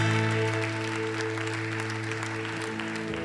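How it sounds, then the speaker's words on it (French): A church congregation applauds steadily and fairly loudly, the clapping mixed with a sustained organ or keyboard chord that holds underneath throughout. "Comment est-ce qu'on peut leur donner une main d'applaudissement?"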